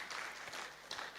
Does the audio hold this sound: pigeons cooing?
no